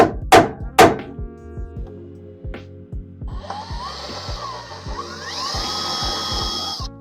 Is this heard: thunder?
no